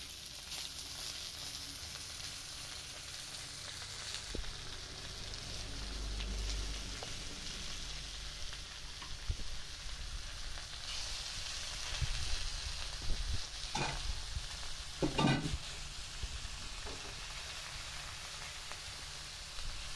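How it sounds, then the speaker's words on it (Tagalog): Tanigue fish frying in hot oil in a pan, a continuous loud sizzle and crackle that runs throughout, with a few louder spattering pops. "medyo gusto ko magkaroon ng frying texture yung ating isda. Ayan, so ilagay na natin yung isda"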